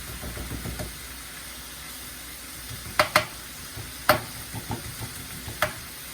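Whole chilies sizzle in a pan for a Singapore mei fun stir-fry, a low steady hiss broken by a few sharp crackles and pops near the middle.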